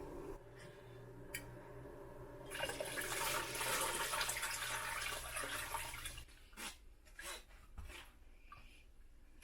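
Guava and piloncillo water pours steadily into a boiling pot for a few seconds with a rushing splash, followed by light clatter and scraping.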